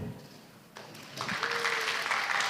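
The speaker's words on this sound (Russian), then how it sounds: "Обычно аплодисменты громче, когда звучит это имя." Applause from an audience at a festival press conference starts faint and swells into steady clapping that carries to the end, moderately distant in the room.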